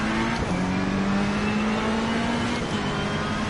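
Race car engines roar and accelerate at a race start in Assetto Corsa Competizione on PS4 at Brands Hatch, a loud continuous multi-car engine drone with rising pitch filling the whole stretch.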